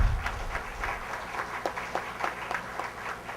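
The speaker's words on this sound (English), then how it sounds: "Please give a round of applause for him." Conference audience applauding after a speaker's introduction at a welcome and keynote session, a soft, somewhat distant patter of many hands clapping with irregular individual claps standing out.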